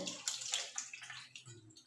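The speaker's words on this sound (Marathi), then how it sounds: "यातील पाणी काढून घ्यायचं" Water from soaked poha pours and trickles out as it drains through a strainer, a soft continuous splashing close by with no talking.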